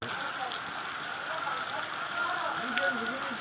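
Steady rain falls on outdoor surfaces at an Indonesian Independence Day ceremony in Mimika Tengah, a continuous even hiss throughout with faint voices beneath.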